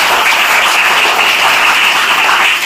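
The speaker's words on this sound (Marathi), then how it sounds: "यांच्यासाठी एकदा जोरदार टाळ्या सगळ्यांना।" Sustained, loud applause from an audience at a school supplies distribution event, a dense steady wash of many hands clapping close by without a break.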